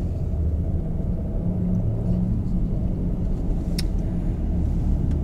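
Car moving fast along a road in the Tetons, steady loud engine and road rumble close by throughout, with faint wind noise.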